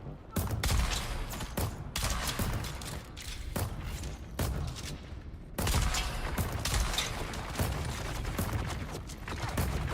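Automated turret in the video game Dune Awakening firing at players during a deep desert fight, a loud, near continuous burst of rapid gunfire with heavy thumps that briefly breaks off midway, then resumes just as dense.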